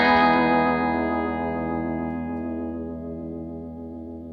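A single electric guitar chord rings out through a Crazy Tube Circuits Memphis pedal, warm and slightly distorted with shimmering Magnatone-style modulation, slowly decaying over several seconds.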